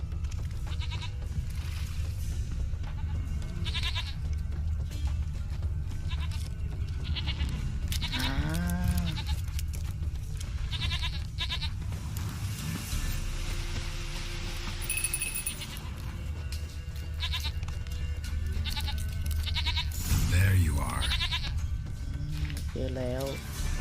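A goat in The Witcher 3 game bleats a few times amid ambient game sound and background music, while someone talks throughout.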